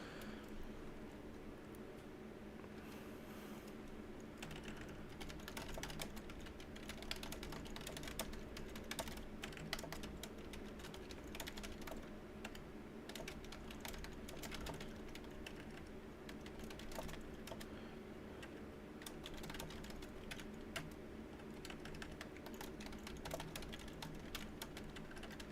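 Continuous typing on a computer keyboard fills the clip, a dense, quiet patter of key clicks at a normal pace with no pauses, recorded close and faint.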